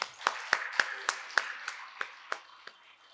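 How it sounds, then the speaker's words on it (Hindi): A single person claps about ten times in a steady, slightly slowing rhythm, each clap sharp and distinct in a quiet room, at a moderate distance. "आप लोगों के लिए एकदम जोरदार तालियां"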